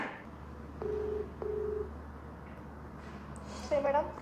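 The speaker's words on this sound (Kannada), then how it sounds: "ಬನ್ನಿ ಇವಾಗ ಅವ್ರ ಹತ್ರ ಫೋನ್ ಮಾಡೋಣ" A phone call rings out with two short, even ringback tones over a low hum, and a faint voice follows briefly at the end.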